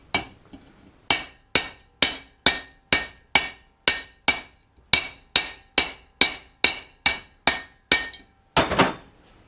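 A hammer flattens a metal front suspension part on a Sylva Stylus in steady, evenly spaced sharp blows, about sixteen strikes in a row, close and loud, ending with a slightly messier double hit.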